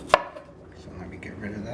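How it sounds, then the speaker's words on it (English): A single sharp knife chop strikes a cutting board as garlic is minced for homemade lasagna, followed by quiet room tone. "the garlic we want to mince"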